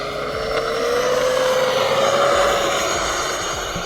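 An E-Flite Thunderbirds F16 EDF radio-controlled jet taxis nearby, its electric ducted fan whining steadily and rising slightly in pitch over a loud broadband rush.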